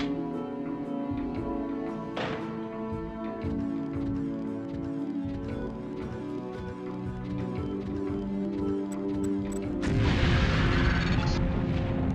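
A lamp used as an explosive falls and detonates during demolitions training in Deus Ex on PS2, a loud boom bursting out late over a dense, continuous game soundtrack.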